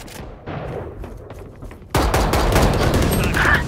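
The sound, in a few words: light machine gun fire in Valorant video game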